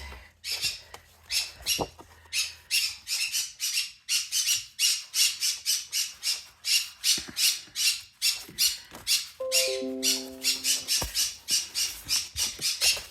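A pet bird squawks over and over in steady, loud, harsh bursts, close by, for the whole stretch, with faint household sounds and a brief beeping tone partway through.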